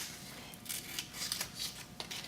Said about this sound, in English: I'm going to cut all the way around their head. I'm going to cut all twisty, my scissors, twisty, twisty.